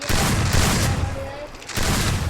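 Rapid gunfire from an MP40 in the mobile battle game Free Fire MAX, dense bursts of shots close and loud, briefly easing before resuming, with voices talking over it.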